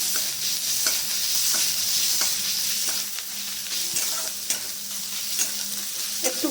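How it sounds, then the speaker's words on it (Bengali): Grated ginger frying in oil in a pan, a steady close sizzle with repeated sharp clicks and scrapes of stirring throughout, no voices. "আদাটা গ্রেট করে নিয়েছি ওটাও দিয়ে দিলাম একটু ভেজে নেবো এটাকে"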